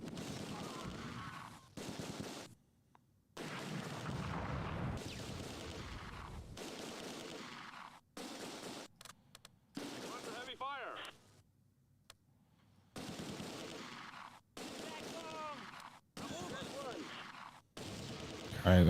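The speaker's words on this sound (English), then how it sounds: "Those mortars are doing pretty good work on us." Mortar blasts and rifle and machine-gun fire in the WWII strategy game Close Combat 2, coming as repeated loud bursts separated by short silences, with a few sharper single shots mixed in.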